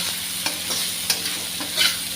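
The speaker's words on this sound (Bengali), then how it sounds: "সবজিটা ভাজা ভাজা হয়ে এসেছে।" Vegetables for Chinese fried rice sizzle in a hot pan, a steady close frying hiss broken by several sharp scrapes and clacks of the spatula as they are stirred, with no talk.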